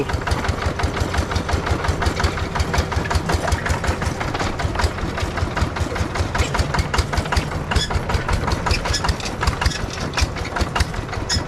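A motorbike engine with a fault that shows at speed runs with a rough, uneven knocking chug. The beat is rapid and irregular, loud and close throughout.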